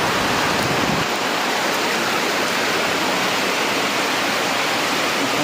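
Heavy rain pouring down over a home courtyard, a loud, unbroken roar of water that stays constant and close throughout with no voices or other sounds breaking through.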